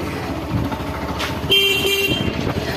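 A vehicle horn honks on a main road, a short tonal blast over rumbling traffic and engine noise close by.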